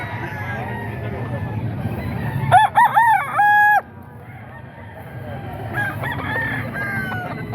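Roosters crow loudly and close by at the Bocaue chicken market, with one long crow followed later by another, over a murmur of market background noise.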